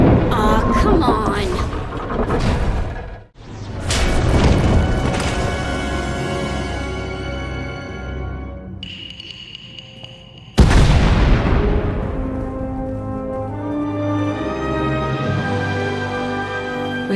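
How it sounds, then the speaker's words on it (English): Explosions and a collapsing tunnel in Star Wars: The Old Republic: heavy booms and rumbling debris, a sudden drop to near silence with a ringing tone, then another loud blast that trails off into rumbling. "We heard explosions, the tunnel collapsed."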